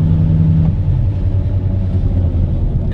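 Cold engine of an old VW Polo 86C barn find running with a steady low rumble and a faint clattering texture, continuous and close, with no voices.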